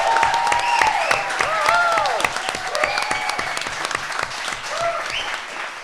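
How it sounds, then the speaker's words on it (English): An in-house audience at a live grand finale event applauds the four finalists, with steady crowd clapping, whoops and cheering voices on top, loud at first and easing somewhat before swelling again. "one final round of applause for Dillon, Tifani, Michael, and Alyssa"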